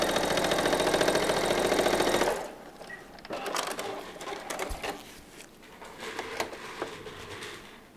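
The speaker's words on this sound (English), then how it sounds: "Very slowly up to the pin. Pull the pin out. Finish sewing that." A sewing machine stitches quilt fabric for flying geese blocks, whirring fast and steadily for about two seconds before stopping, followed by quieter handling and rustling of the fabric.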